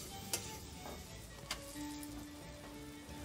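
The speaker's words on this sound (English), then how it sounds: "I'm going to fry up our bread crust." Bread crust frying in about four tablespoons of melted butter in an 18th-century-style kitchen, a soft, quiet sizzle with a few faint ticks and clinks of a utensil against the pan.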